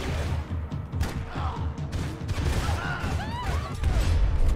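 Gunshots in the Max Payne 3 video game on PC: a dense, continuous barrage of loud firing and crashing impacts throughout, with brief vocal sounds partway through.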